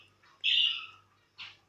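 Pet budgerigars chirping close by, a long bright warbling call followed by a short sharp chirp after a brief pause, with no talk.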